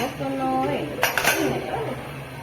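An air fryer basket is pulled open with a short metallic rattle and scrape near the middle, close and moderately loud, set against a low steady hum.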